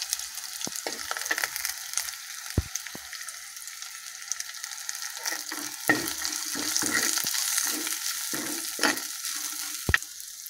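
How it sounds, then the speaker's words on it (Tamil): Oil sizzles softly as spice powders and turmeric fry in it for tomato rasam, while a utensil clinks and scrapes against the pan in scattered knocks, the frying hiss swelling slightly toward the end. "இதையும் கூட ஆட் பண்ணிக்கலாம், எண்ணெயில் வணக்கிக்கலாம்"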